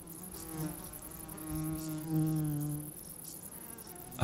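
A wild bee gathering pollen buzzes close by, its droning wingbeat tone swelling and fading over a few seconds against a faint outdoor background.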